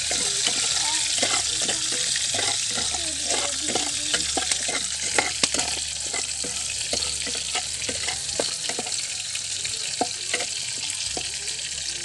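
A spoon scrapes and clacks through sautéed ingredients for a mung bean stew, a brisk run of close stirring strokes over a constant frying sizzle.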